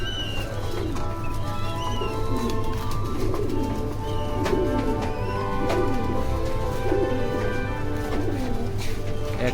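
Foreign-breed pigeons coo steadily at a pigeon farm, several birds layered close by in a continuous soft rolling hum with occasional chirps.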